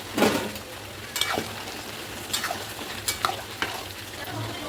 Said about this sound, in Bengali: মাংসটা যে সিটি মেরে রেখেছিলাম এটা সবটাই আমি মশলার মধ্যে ঢেলে দেবো, দিয়ে ভালো করে কষিয়ে নেব